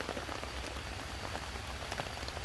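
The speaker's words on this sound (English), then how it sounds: "rain's starting to pick up here" Steady rain patters on a camping tarp in a city park, a dense continuous hiss of drops close overhead with no voices.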